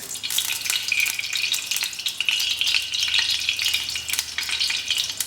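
Ghee sizzles and crackles in a hot vessel while preparing Awadhi-style mutton raan, a steady, close frying hiss that runs without a break and with no talk.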